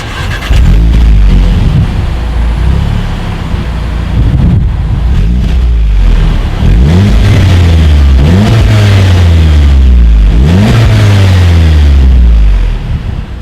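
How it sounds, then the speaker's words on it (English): A 2018 Volkswagen Golf R with a quad-tip exhaust is revved repeatedly, each rev climbing and falling back in loud sweeping bursts. Heavy wind buffets the microphone throughout, and no one speaks. "Here is that exhaust clip."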